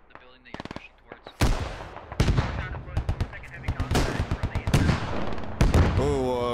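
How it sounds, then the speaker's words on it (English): A LAT anti-tank rocket slams into a Bulldog armored vehicle in the military shooter Squad, a heavy blast followed by rapid gunfire bursts and further explosive cracks, loud and continuous amid the battle din. "Oh, a beautiful lat shot on the Bulldog."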